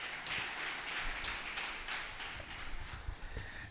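Applause from an awards ceremony audience, steady dense clapping filling the room for a few seconds, fairly faint and without voices.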